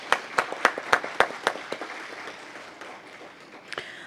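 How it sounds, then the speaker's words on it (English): A handful of people clap at a council meeting, with about a dozen distinct, evenly spaced claps that slow and fade out, then one last clap near the end, heard with no talking. "Everyone, please give him a round of applause."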